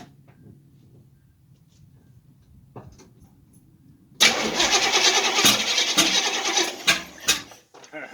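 A Chevy Nova's engine cranks and catches, going from near silence to a loud, steady running rumble up close.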